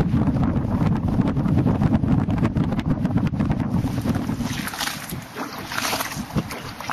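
A motorboat crosses a channel in the Les Cheneaux Islands with steady engine rumble and wind buffeting the microphone, then the hum fades as splashing water takes over.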